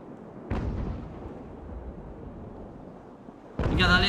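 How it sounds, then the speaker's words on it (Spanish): Two heavy booms of sailing-ship cannon fire in a naval battle game, each a sudden thudding blast, with a low rumble in between. The second blast comes with a sharper crackle. "Disparo aquí a velas que lo tenemos de prueba."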